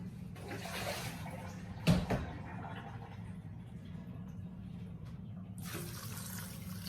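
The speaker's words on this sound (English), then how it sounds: "Now we're going to go ahead and add our water." Tap water runs steadily into a soup pot holding beans and peas, a soft continuous stream at moderate distance with a brief clunk near the start and a louder splash toward the end.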